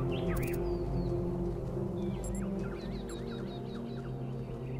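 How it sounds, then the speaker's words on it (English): Chirps and short warbling calls from several birds in the video game The Talos Principle 2, repeated in quick patterns over a constant low hum and layered ambient drone. "Do you hear the birds chirping outside the dome?"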